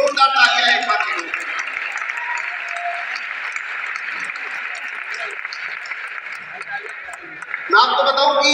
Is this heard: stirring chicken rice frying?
no